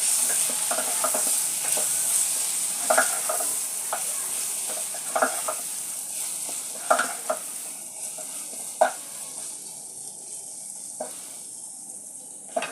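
Meat seasoned with garam masala stirs and sizzles in a frying pan, with a steady hiss of frying broken by repeated sharp scrapes and clatters of a utensil against the pan, close and fairly quiet, with no talking.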